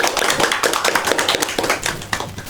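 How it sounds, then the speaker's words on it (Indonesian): Students in a classroom during a civics microteaching session clap for a classmate, a close, somewhat uneven burst of hands clapping with fluctuating intensity, no talk over it. "kasih tepuk tangan semuanya"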